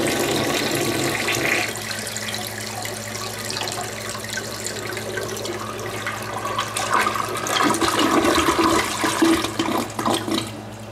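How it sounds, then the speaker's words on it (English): An old standard toilet in a house flushes with a loud, close rush of water that runs for about eleven seconds, swelling and gurgling toward the end as the tank refills. "for all you toilet fans, I guess we'll flush it"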